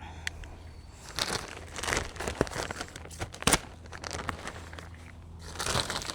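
Plastic compost bags being cut open and handled, with close, irregular crinkling, crunching and tearing of plastic over a soft background hum.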